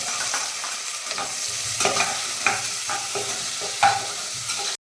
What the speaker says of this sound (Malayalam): എണ്ണ ചൂടായതിനു ശേഷം സവോള ഇട്ട് കൊടുക്കുക